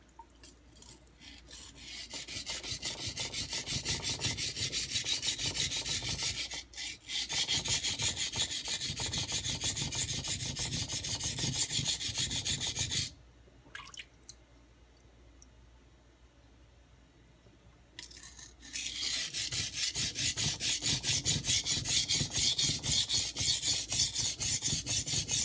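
Steady wet rasping strokes of a 3-inch santoku kitchen knife tip being worked on Nubatama Ume whetstones, continuous close scraping with a few seconds' pause partway through before the strokes resume.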